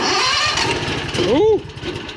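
A 670cc engine cranks briefly under a loud, steady mechanical drone and then catches, with a short whooping voice rising over it as the note changes.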